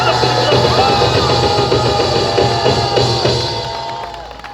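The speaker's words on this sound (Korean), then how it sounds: "여러분 국민의 박수" A crowd at an outdoor rally at Pyeongtaek Station breaks into applause, a dense, sustained wash of clapping that fades toward the end.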